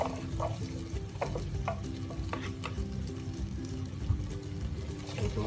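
Onion sautéing in hot oil with garlic for simple lomi, a steady close sizzle with soft stirring scrapes and occasional clinks of a utensil against the pan, and no talking.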